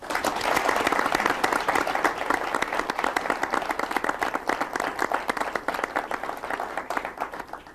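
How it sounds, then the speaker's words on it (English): A studio audience applauds at a 1997 DCMC broadcast on integrated project management, dense steady clapping that starts full and slowly thins and fades over several seconds, with no talk over it. "Studio audience, let's give them a hand."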